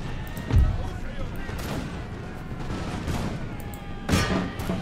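Musket volley fire in a video game battle of the Imperial Splendour campaign, heard as distant scattered shots and a few louder crackling bursts under a continuous rumbling battle ambience, with someone talking over it.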